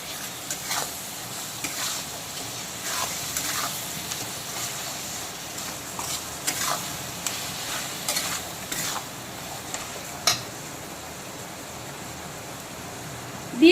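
Boiled, deboned Bombay duck fish being stir-fried with spices in a pan, giving soft intermittent scraping and light sizzling strokes at a steady moderate level, with a sharper clatter near the end.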